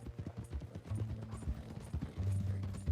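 Horse hooves clip-clop in a steady rhythm as a rider travels toward San Denis in Red Dead Redemption 2, with a low mechanical hum running beneath the close, even hoofbeats.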